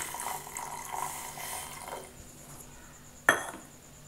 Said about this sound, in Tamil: இந்த வெல்லத்தை ஒரு அரை கிளாஸ் தண்ணி ஊற்றி